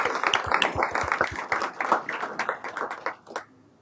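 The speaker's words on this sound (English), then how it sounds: "Let's give them some claps." Audience at a school district Friends of Education recognition ceremony claps for an honoree, a dense burst of hand claps that thins and fades out near the end.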